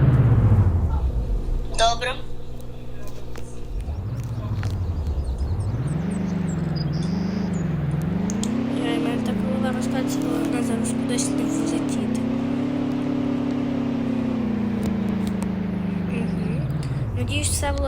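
A car, a BMW X6, moving off slowly, its engine note rising and falling with gentle acceleration, a close steady hum under occasional clicks, no speech heard.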